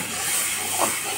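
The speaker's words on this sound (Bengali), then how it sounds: "মশলা ভাজা হয়ে গেছে, তেলও ছেড়ে দিয়েছে, এখন আমি জল দিয়ে দিচ্ছি।" Water poured into hot oil with fried spices for a fish curry, a brief close burst of loud hissing and steam.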